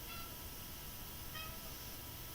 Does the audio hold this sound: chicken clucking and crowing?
no